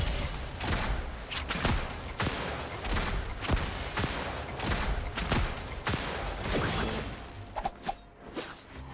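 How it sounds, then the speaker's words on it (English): Shots fired in a duel in the video game Genshin Impact, heard as a rapid run of sharp whooshing gunshot effects at a steady pace that thin out into a few last bursts. "I'm gonna shoot you"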